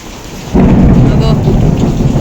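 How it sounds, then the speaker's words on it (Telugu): A thunderstorm with heavy rain: steady loud downpour kicks in suddenly after a quieter start, with low rumbling thunder rolling underneath. "వాన వస్తుంది కదా"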